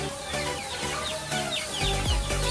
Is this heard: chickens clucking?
yes